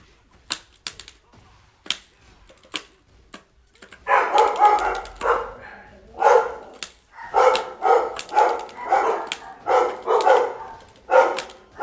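Several dogs bark in bursts, fairly close and loud, their repeated woofs clustering in the middle of the clip amid quick clicking taps.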